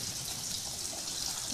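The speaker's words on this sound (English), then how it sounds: "I'm going to thin it down with just a little bit of water" A little water is poured into a pot of white cheddar grits on a kitchen stove to thin them down, a faint, continuous trickle and splash heard alone.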